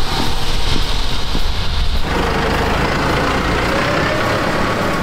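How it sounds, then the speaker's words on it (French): A farm tractor towing a hitched hay trailer rumbles steadily nearby as it pulls away, a continuous loud engine drone that shifts in tone partway through as it moves off. "Emmène le tracteur."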